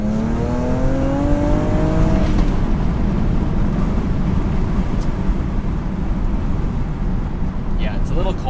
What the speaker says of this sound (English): Let's get a little bit of a second gear pull.